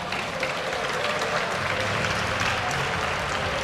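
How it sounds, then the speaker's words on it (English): Esports audience at a League of Legends LCS EU match cheers and applauds in a dense, steady roar of clapping that fills the whole stretch without pause. "Give them a cheer."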